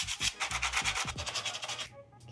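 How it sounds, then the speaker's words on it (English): Sandpaper scrubs a rusty part on a Ford Bronco truck in quick, rhythmic back-and-forth strokes. The strokes are close and fairly loud, then stop abruptly near the end. "gonna sand this down and add some rust treatment to these before we lower the truck down"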